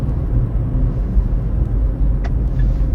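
A Peugeot iOn electric car rolls along off the accelerator, giving a steady low road and tyre rumble with a faint high whine near the end.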